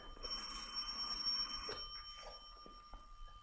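Telephone bell ringing loud and close for about a second and a half in a continuous metallic trill, then stopping, followed by a few faint knocks and movement.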